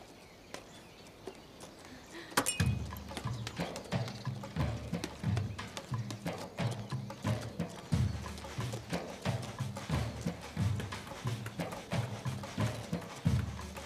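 A horse's hooves clip-clop steadily and close by, starting suddenly after a quiet opening and keeping an even walking rhythm to the end, with faint outdoor background.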